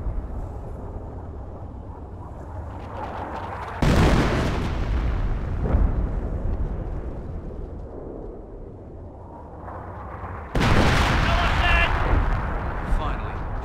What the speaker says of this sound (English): Just got the green light to employ creeping barrages.